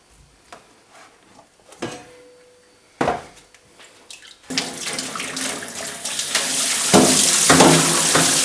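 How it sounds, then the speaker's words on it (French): Andouillettes are rinsed under running lukewarm tap water. Brief knocks and clatter come first, then a steady, loud water stream from about the middle of the clip to the end. "on va les passer à l'eau tiède, courante, pour pouvoir les débarrasser de ce gelé de cuisson"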